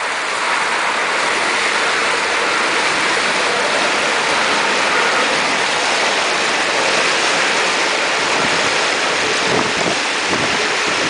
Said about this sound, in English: the water's flowing quite fast after all the rain